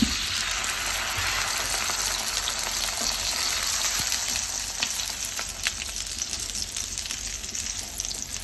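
Lachha aloo paratha frying in ghee on a hot pan crackles with a loud, dense, continuous sizzle that holds steady throughout, close up and with no talking.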